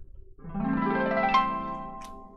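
A short harp sound effect plays during a basketball card box break: a bright, rising harmonic flourish that lasts about two seconds, heard alone and fairly faint.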